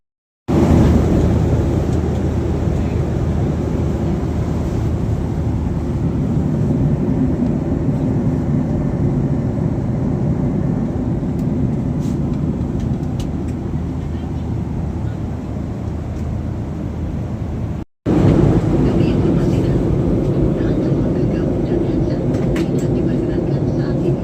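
Airplane cabin during descent to Pattimura airport in Ambon, a steady, loud broadband engine and airflow roar that continues evenly, broken by one brief cut near the end.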